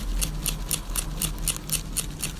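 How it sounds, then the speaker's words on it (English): Tebori hand-tattooing, a needle repeatedly piercing skin, heard as a close, steady series of crisp ticking taps at about four per second over a low constant hum. "That's the sound of your skin breaking."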